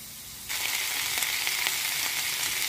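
Potatoes and cauliflower cook in a pan with little oil, bursting into a loud, close sizzle after a brief quiet moment, then frying steadily.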